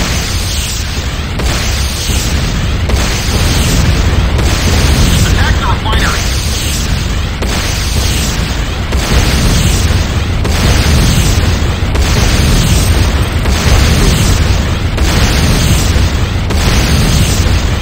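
Explosions from a destroyed GDI Tiberium refinery in the game Command & Conquer: Renegade: a continuous run of loud, booming blasts and bursts that repeat roughly every second or two over a dense, rumbling roar.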